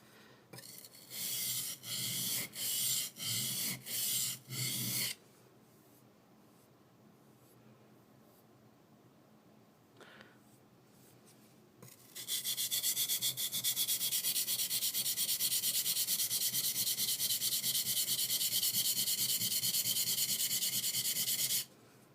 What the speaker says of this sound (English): Sharpen the back again